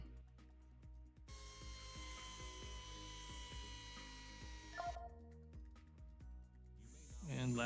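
A simulated bone saw in a VR total knee surgery simulator makes the posterior femoral chamfer cut: a steady, buzzing electric whine with a faint high tone runs for about four seconds, then cuts off into quieter mechanical clicks.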